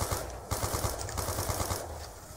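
Rapid gunfire from a zombie-survival video game, a steady run of repeated shots in quick rhythm lasting the whole moment, fairly faint with no talking over it.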